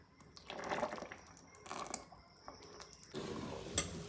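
Water is poured into coarse rice flour batter while making adhirasam, a Diwali sweet, giving three short wet splashing bursts with faint dripping in between, close and fairly quiet, with no talking.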